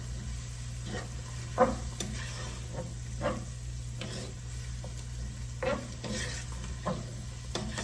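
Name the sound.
stirring Singapore veg fried rice in a pan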